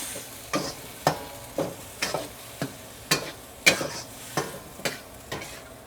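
Pad Thai noodles being stir-fried in a wok with sauce, a steady sizzle broken by about a dozen sharp, regular scraping strokes of a spatula against the metal, close and moderately loud with no talking.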